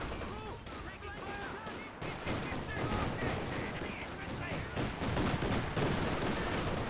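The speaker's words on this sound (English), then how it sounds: "MG34 firing away, hits Lieutenant." An MG34 machine gun fires in Company of Heroes amid dense battle noise, with sustained rattling bursts and other gunfire layered over a constant rumbling din; voices are faintly mixed in.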